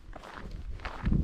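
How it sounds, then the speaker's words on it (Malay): Footsteps crunch across the salt crust of the Al Waba crater in Saudi Arabia, several quick close steps building to a louder scrape at the end. "berbunyi-bunyi tapak kaki"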